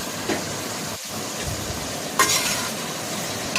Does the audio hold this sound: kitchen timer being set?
no